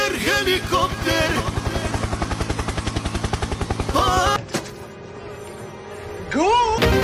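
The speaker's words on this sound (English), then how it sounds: "Helicopter, helicopter." A loud, rapid rhythmic chopping of a helicopter's rotor in the game Stickman Dismounting, with bursts of game effects and voices around it, then a brief lull.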